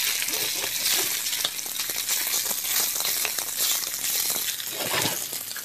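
Seitan browns in a hot pan, giving a steady, bright sizzle and crackle with occasional sharper pops and a soft scrape of stirring, close and continuous with no talk.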